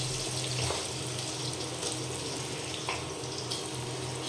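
A plate being washed under a running kitchen tap, a steady broadband rush of water from start to finish with a few faint clinks, moderately close and without talk.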